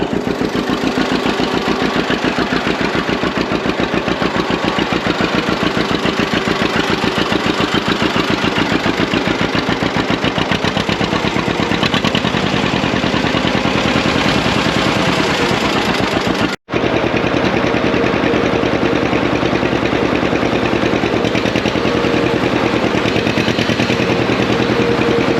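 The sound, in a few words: John Deere two-cylinder tractor engine idling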